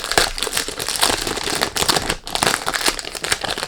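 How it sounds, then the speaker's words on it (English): A perfume box is unboxed, its packaging crinkling and rustling loudly and close up without a break, with one brief dip partway through and no speech. "Sorry about the noise when you do unboxing,"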